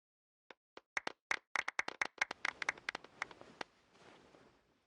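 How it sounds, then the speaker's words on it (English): Light clapping at an award ceremony in the video game Genshin Impact, starting as a few isolated claps and building into a quick, uneven flurry of hand claps that thins out into a soft wash, fairly quiet overall. "Let's give our champion Kaveh one last big round of applause."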